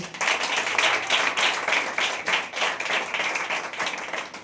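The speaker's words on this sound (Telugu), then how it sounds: "ప్రార్థన చేద్దాం అనుకున్న వాళ్ళందరూ చప్పట్లు కొట్టండి" A church congregation claps together during prayer, a dense, sustained patter of many hands that keeps a steady roaring texture with small swells throughout.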